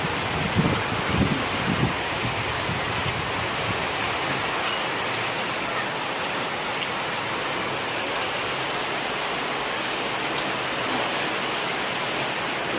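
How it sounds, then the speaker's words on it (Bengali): Heavy rain pours down steadily outside a home, a dense, continuous hiss of water on surfaces holding nearly constant loudness throughout, with no talking. "অনেক বৃষ্টি হচ্ছে,"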